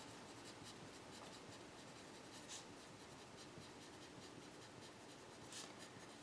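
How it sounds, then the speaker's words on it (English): Steady scratching of pen or pencil writing out rational zeros by hand for a math problem, continuous close strokes with a couple of brighter scrapes, no voice. "I'm gonna write this out here"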